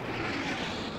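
A hostile jet aircraft in the Battlefield video game roars in a steady, loud, broadband rush with no breaks, heard alone in a large multiplayer battle.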